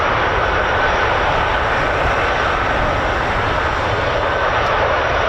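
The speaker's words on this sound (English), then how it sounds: "can hear the CV-22 Osprey as well" A CV-22 Osprey tiltrotor aircraft flies at a US Air Force and RAF airfield, giving a loud, steady, continuous engine and rotor roar that stays constant throughout with no break.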